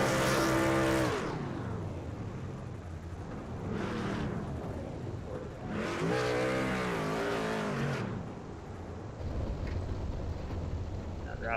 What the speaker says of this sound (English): Jason Gracias doing burnouts with teammate Alexander Kerfan.